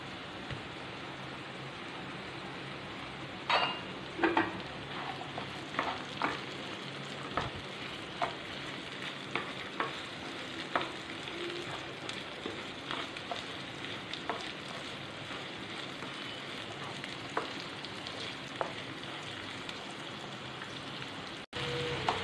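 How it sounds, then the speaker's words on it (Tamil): Chopped citron pieces with onions sauté in a pan, giving a soft, steady sizzle with scattered pops and stirring clicks throughout, close by and alone. "இத வந்து வதக்கிக்கிடணும்"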